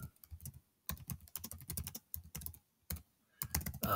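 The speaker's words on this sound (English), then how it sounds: "so let me type this again." Fingers type on a Chromebook keyboard in quick bursts of soft, close key clicks, broken by brief pauses.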